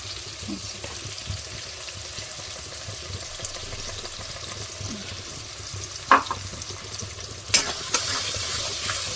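Spice paste sautés in oil in a pan for an okra dish, a soft steady sizzle with a couple of sharp utensil clatters near the end.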